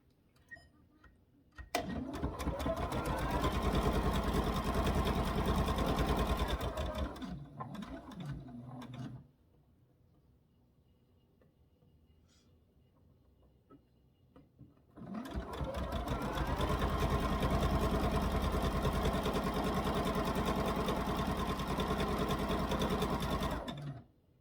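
A sewing machine stitches pieces of a sugar cookie quilt in two long continuous runs of steady, loud whirring mechanical hum, separated by a quiet pause of several seconds.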